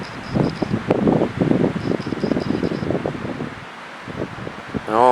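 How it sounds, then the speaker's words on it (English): Wind gusts loudly outdoors across storm-damaged ground where a fallen treetop rests on a trailer, a steady rushing roar with buffeting that swells and eases over several seconds, no voices heard. "Hear that wind."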